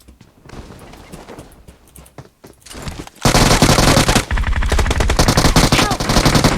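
Rapid automatic gunfire from a PUBG Mobile match erupts loud and sustained after a quieter stretch of scattered shots, with voices talking over the bursts.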